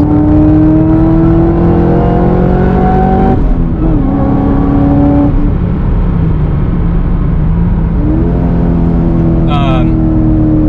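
A supercharged LS3 Chevrolet Camaro SS accelerating hard on a road outside town, engine loud and close, its whining pitch climbing through several gear shifts, with a person talking over it.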